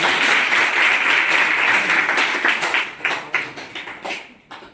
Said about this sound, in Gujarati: ખૂબ સરસ તાળી બતાવો